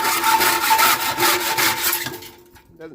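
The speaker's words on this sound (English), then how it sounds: "we're actually gonna just use a hacksaw and cut through these bands on here" Hacksaw strokes cut through the steel bands of a Pinnacle boiler with a stainless steel heat exchanger, giving steady rhythmic rasping, close and loud, before the sawing stops and trails off.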